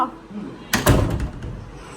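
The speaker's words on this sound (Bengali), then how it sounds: "দরজা ভিড়ায় রাখতেছি" A door is pushed shut in a home, giving a sudden thud and rattle followed by a brief trailing clatter, fairly close and loud against a quiet room.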